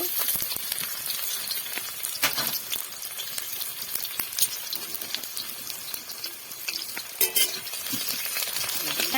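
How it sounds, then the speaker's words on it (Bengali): Chopped onion and garlic frying in oil in a wok, a continuous close sizzle broken by frequent scraping stirs and an occasional metal clink, with no talk over it. "কুচি রসুন কুচি ভালো করে এখন ভাজে নেব"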